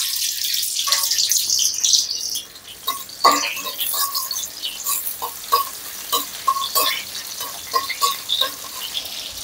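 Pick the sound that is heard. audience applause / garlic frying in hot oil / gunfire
garlic frying in hot oil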